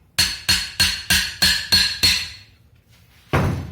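Seven evenly spaced metallic hammer strikes on an off-road tire bead during dismounting, ringing out in a steady rhythm, each decaying briefly, followed by a pause and one more heavier blow.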